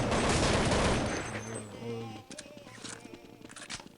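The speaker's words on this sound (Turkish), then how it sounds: "Mermiyi her yere attık ana" Rapid automatic gunfire in Counter-Strike 1.6, a dense loud burst in the first couple of seconds that gives way to scattered clicks and fainter shots, with a voice under the shooting.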